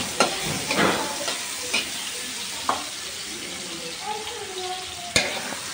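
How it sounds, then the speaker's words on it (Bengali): Tomatoes fry in a pan on a home stove, a steady hiss with several sharp clinks and scrapes from stirring, close and clear with no talking. "বাঁধাকপির তরকারি ভাজা হয়ে গেছে, টমেটোগুলো ভেজে নিচ্ছি"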